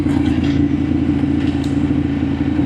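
A KTM adventure motorcycle fitted with Safari tanks rides a smooth dirt road in second gear, its engine a loud, steady, close drone with slight uneven pulsing and no voices.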